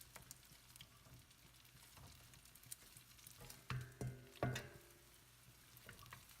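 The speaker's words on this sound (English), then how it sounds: "Pour the eggs in. And just scramble it so it doesn't stick into a big chunks." Eggs poured into a frying pan and scrambled while making vegetable fried rice, a faint soft sizzle with a few louder scraping stirs of the utensil against the pan midway.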